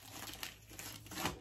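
A plastic bag is crinkled and rustled close by in short, soft bursts, fairly quiet, with no voices.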